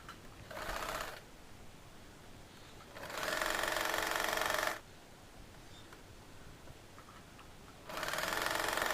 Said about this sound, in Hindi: ये देखिए जो पहले सिलाई लगी हुई है ना, उसी के ऊपर ये मैं सिलाई लगा रही हूँ।